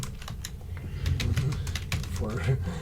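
Typing on a computer keyboard, a quick irregular patter of key clicks close by, continuing under a low voice and background hum.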